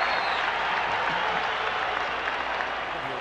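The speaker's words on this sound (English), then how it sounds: "Listen to the crowd." Baseball stadium crowd applauding and cheering in a steady, dense roar of clapping that fills the whole stretch without letup, with no talk over it.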